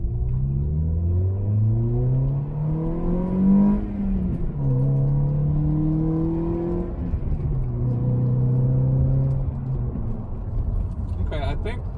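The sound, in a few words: Toyota Corolla accelerating while driving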